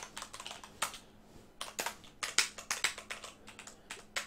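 Computer keyboard keys clatter in quick irregular bursts with short pauses between, close and fairly quiet, with no talking.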